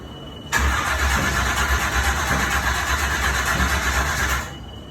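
A blown Chevy truck engine cranks and fires abruptly, then runs at a loud, rough, steady roar for about four seconds before cutting off.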